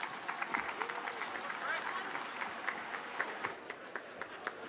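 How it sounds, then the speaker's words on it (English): A room of attendees at an agency launch event claps warmly, a moderately dense run of applause with distinct individual claps, fairly close, with a faint voice or two mixed in. "a wonderful round of applause"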